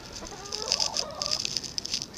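Chanticleer and bantam chickens in a coop give a steady run of soft clucks and high chirping calls, close by and moderately loud over a light background hiss.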